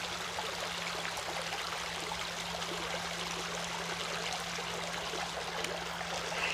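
A small creek flows with a steady, close trickling and gurgling rush that holds constant throughout, with no voices.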